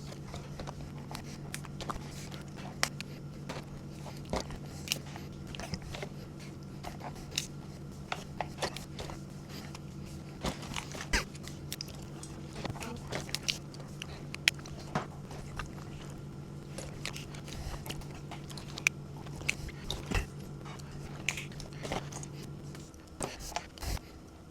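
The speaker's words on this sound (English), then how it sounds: "We're just going to extract some of the meat out of the legs and whatever's left on the head." Lobster meat picked from cooked legs and head, with small irregular clicks, cracks and taps of shell under a steady low hum, fairly quiet and close throughout.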